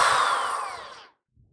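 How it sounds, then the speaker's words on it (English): An electric drill of 1600 RPM or more whines loudly as it drives a cob screw through the big end of an ear of corn on an EZ-Creamer corn sheller. The whine holds steady, then fades and stops after about a second. "you're going to get your cob screw and an electric drill that is 1600 RPMs or more"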